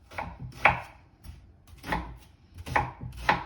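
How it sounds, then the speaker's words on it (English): Onions being chopped with a knife on a board for falafel, several separate firm chops landing in loose groups with short pauses between them, close and fairly quiet. "take these onions and chop them"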